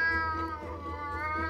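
A cat gives one drawn-out, whining meow with a wavering pitch, close and fairly quiet, alone with no talking.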